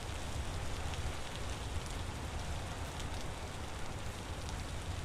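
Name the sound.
rain falling in the video game Vintage Story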